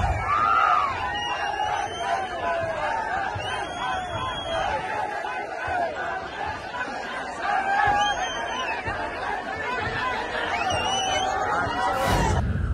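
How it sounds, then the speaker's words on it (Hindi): A dense crowd at a Congress rally road show in Karnataka: continuous loud cheering, chanting and shouting voices blending into a roaring babble throughout, with whistles rising above it and a sharp burst near the end. "कांग्रेस की सभाओं में, रैलीज में इस तरह की भीड़ जनता की आ रही है"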